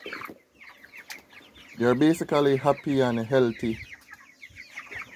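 Four-week-old chickens on a farm cluck and murmur close by in a busy, overlapping chorus, while a person talks over them.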